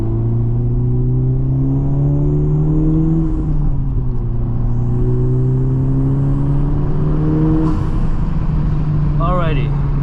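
A Honda Type R fitted with an Integra Type S damper module pulls away and drives, its engine droning and rising in pitch through the gears, loud and close from inside the car, with a brief whine near the end.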